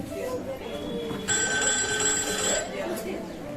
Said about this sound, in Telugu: ఒకసారి నేను ఫోన్ చేస్తాను